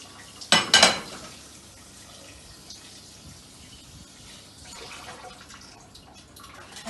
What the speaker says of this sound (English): So I rinse off this right about now.